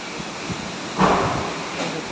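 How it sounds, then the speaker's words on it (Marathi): Strong wind gusting during a storm, with distant rain mentioned, rushes as a steady broadband roar that swells into a louder gust midway and then eases slightly, with no talk. "एवढं जोराचं वारा सुटला"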